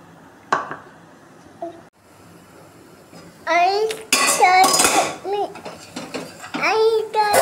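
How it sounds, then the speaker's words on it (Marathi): A lid is set on a cooking pot in a home kitchen, giving a short metallic clank near the start, followed by a voice chattering and babbling over faint kitchen clatter. "आता हे झाकण ठेवूयात आपण याच्यावर."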